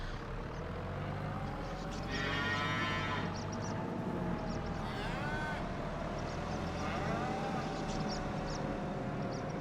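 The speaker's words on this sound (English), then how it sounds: "I'm gonna have to back over the cows because they're all over the place." Cows in Farming Simulator 25 moo in drawn-out calls over the low drone of a farm vehicle, with a few clanks mixed in and no one talking.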